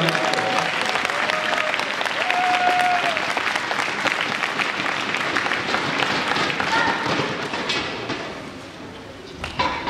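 An audience at a martial arts night in Versailles applauds two young Vietnamese kung fu performers, a steady, loud wash of clapping sustained throughout, with some crowd murmur underneath.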